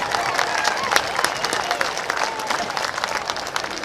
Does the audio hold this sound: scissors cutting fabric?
no